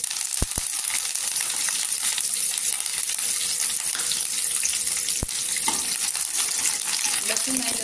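Chopped garlic and cut curry leaves frying in hot oil in a pan, a steady close crackling sizzle that runs throughout with a few sharp clinks of a utensil.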